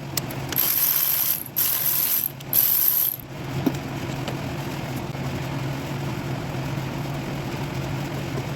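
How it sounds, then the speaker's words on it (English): A hand ratchet clicks in fast bursts while loosening valve cover bolts on a Lexus GS300, three sharp close runs in the first few seconds, then a quiet engine-bay room tone. "So I'm going to pull the valve cover off, inspect the valve cover itself."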